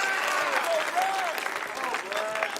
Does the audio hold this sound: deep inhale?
no